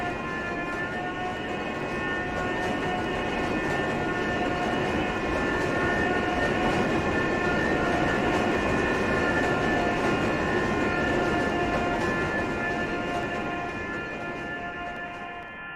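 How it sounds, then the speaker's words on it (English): R12 subway cars from the 1970s, run as a 4-car shuttle in Minecraft, rumble steadily along the track with a broad, continuous roar and faint sustained tonal hum that holds throughout and eases slightly at the end. "This is a 4-car shuttle of R12 subway tracks."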